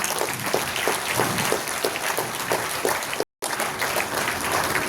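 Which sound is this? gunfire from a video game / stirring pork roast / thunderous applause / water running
thunderous applause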